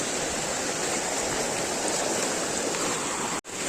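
Water pours down a small stream or fall in an outdoor bathing spot, a constant dense rushing hiss filling the scene close by with a brief dropout near the end.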